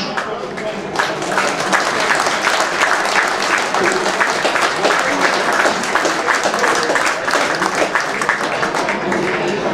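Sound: applause from football crowd

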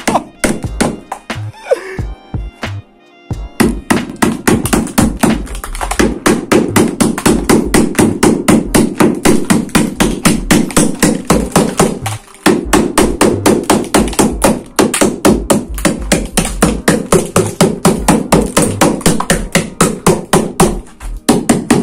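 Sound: small hammer tapping a car's rusty body pillars

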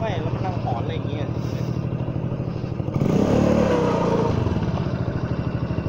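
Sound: rattling noise from a Honda Forza 300 scooter, likely near the clutch

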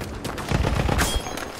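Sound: gunfire in a World War I video game

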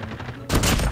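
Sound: gunfire from a sniper rifle in Call of Duty video game

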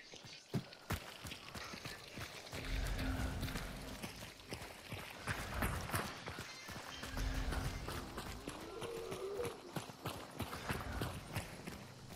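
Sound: horse galloping in the video game Hunt: Showdown

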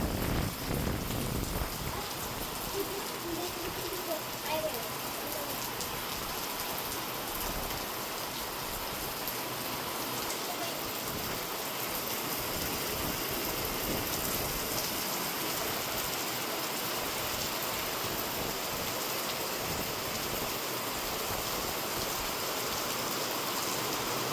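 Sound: heavy rain

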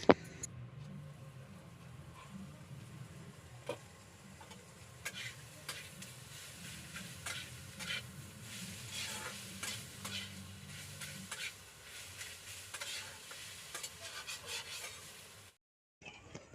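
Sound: cabbage fritters frying in oil

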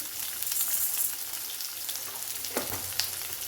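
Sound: black urad dal frying in oil for chutney

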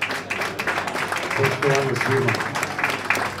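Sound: audience applause at music awards ceremony

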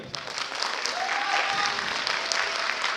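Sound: audience applause

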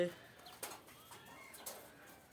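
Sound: pigeons cooing

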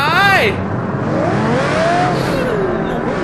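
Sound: go-karts racing in the video game BeamNG.drive

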